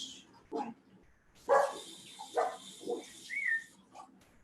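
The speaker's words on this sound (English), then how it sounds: "Oh, dog." A dog barks a few times indoors, sharp separate yaps spread across a few seconds, mixed with a hiss of background noise and a brief voice.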